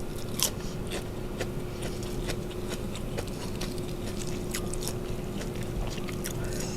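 Someone munching a sweet, crispy snack, producing a steady run of close crunchy bites and chewing over constant background noise, with no talk.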